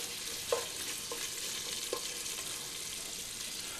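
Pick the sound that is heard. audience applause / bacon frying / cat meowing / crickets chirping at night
bacon frying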